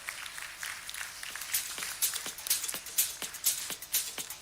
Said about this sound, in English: That session certainly deserves a louder round of applause.